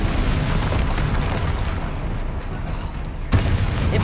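The Incendio fire spell being cast in the video game Hogwarts Legacy gives a dense, roaring whoosh of flame that rumbles steadily, with a sharp burst near the end.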